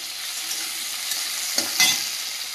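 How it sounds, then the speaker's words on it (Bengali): Whole garlic cloves fry in hot oil in a kadai with a continuous close sizzle, a couple of brief louder spits and stirring knocks near the end, no talk. "কয়েক টুকরো গোটা রসুন দিয়ে দেব,"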